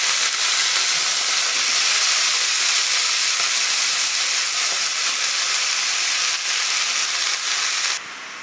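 Vegetables frying in a pan, a loud, steady, bright sizzle and hiss that runs evenly and cuts down sharply near the end, with no talk.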